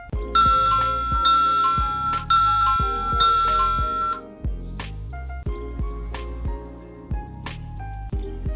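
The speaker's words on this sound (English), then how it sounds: "I'm gonna have someone call through the doorbell" A Uniview ED-525B-WB video doorbell plays its call chime, a loud, bright melodic electronic tune of repeated ringing tones looping twice, close and clear with no talking.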